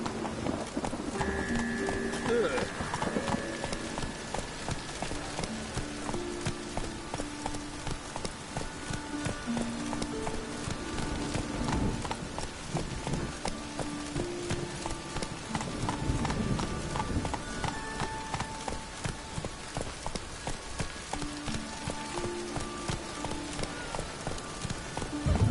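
Galloping horse hooves in The Witcher 3 video game, a continuous rhythmic clatter that stays loud for the whole stretch, with brief game voices and ambient sound underneath.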